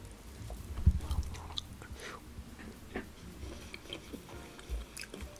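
Crunchy peanuts on an ice cream cone being bitten and chewed up close, soft irregular crunches and mouth sounds, quiet with no talking.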